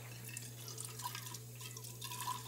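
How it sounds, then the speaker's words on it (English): Darkroom developer chemical is poured carefully from a beaker over a sink, a faint, soft trickling splash against a low electrical hum. "Pour carefully over the sink."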